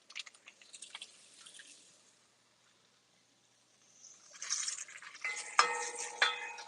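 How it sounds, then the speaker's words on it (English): Onions, garlic and bacon saute in a pan for a rice dish, with soft stirring and light sizzling that briefly falls silent before louder scraping and frying return near the end. "And I'm just basically like sauteing this in here."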